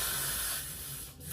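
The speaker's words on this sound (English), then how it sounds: "I'm gonna spray up underneath the wig" Hairspray hisses in a short steady burst up under a human hair lace closure wig, fairly quiet and close, fading out near the end.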